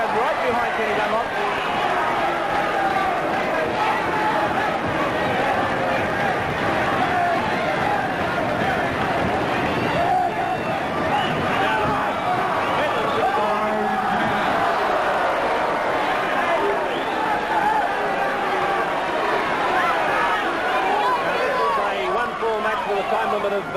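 A wrestling crowd at a Ken Medlin vs Ken Dazzler Dunlop match makes a steady, moderate babble and cheering throughout, with a commentator talking over it.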